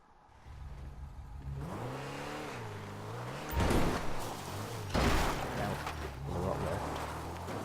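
Declasse Scramjet engine in Grand Theft Auto 5 revs and accelerates with a mid-pitched rising whine, two louder surges midway, while someone talks over it.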